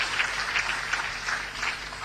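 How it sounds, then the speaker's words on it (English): An audience bursts into steady, sustained applause in a hall, a dense wash of clapping lasting about two seconds with no speech. "by the mere mention of his name, I raised an applause"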